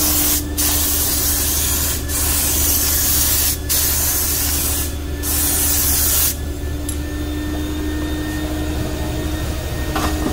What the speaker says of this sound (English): it's just building up as I spray it.